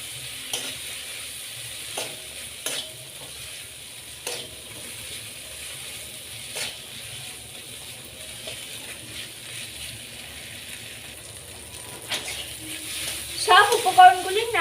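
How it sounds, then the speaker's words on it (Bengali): A spatula stirs a turmeric spice mix frying in a pan for a Latha fish curry, giving a soft, low sizzle with sporadic scraping clicks that grows busier and louder near the end. "সব উপকরণগুলি আবারও ভালোভাবে নাড়তে থাকবো।"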